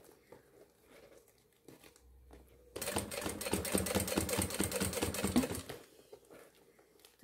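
A sewing machine stitches a thermal bag of synthetic and sublimated fabric, running in one fast rapid-clatter burst of about three seconds after quieter handling sounds.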